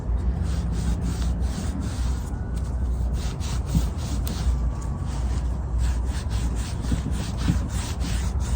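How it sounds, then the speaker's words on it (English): A wooden bench is being hand-sanded, a continuous rough, rhythmic rubbing of abrasive on wood, close and steady, with no talking. "but I am going to sand it"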